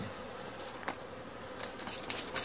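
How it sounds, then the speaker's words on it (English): Honey bees humming around an open hive during a Newfoundland beekeeping inspection, a steady close buzz with a few louder passes near the microphone. "If these bees wanted to get me, they can."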